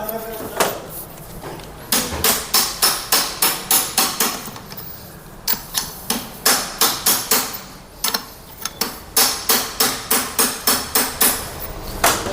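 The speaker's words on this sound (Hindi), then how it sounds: "तो कुछ इस तरीके से हमने हल्के हाथ से इसको ठोक के सेट कर लिया है।" An aluminium center is hammered into a Honda Shine 125 engine with loud, sharp metal knocks. They come close together in quick bursts, with short pauses between the runs.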